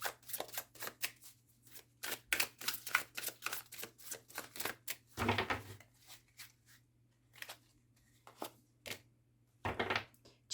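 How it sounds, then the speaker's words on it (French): Tarot cards are flipped, slapped and shuffled close by in quick irregular bursts of crisp papery clicks and rustles, with short quiet gaps and a faint steady hum underneath. "les cartes se retournent toutes seules maintenant"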